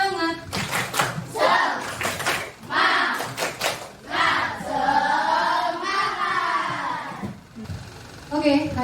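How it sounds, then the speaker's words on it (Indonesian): A class of students doing a rhythmic spirit clap together, with bursts of clapping mixed with voices and chanting in a classroom. "Tepuk semangat."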